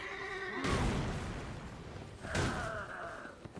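Horse in Elden Ring letting out two loud whinnies, the first near the start and a second shorter one partway through, with no talk over them.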